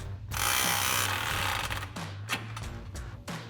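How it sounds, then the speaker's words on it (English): A 15mm socket on a ratchet tightening an exhaust muffler clamp on a Tacoma, a burst of rapid ratcheting followed by several short clicking turns, close and fairly quiet. "So I'm going to start on our muffler inlet with a 15mm socket."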